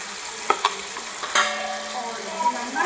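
Garlic paste being stirred into chicken korma in a frying pan, a quiet sizzle under scraping spoon strokes and a few soft clanks against the pan, close and brief.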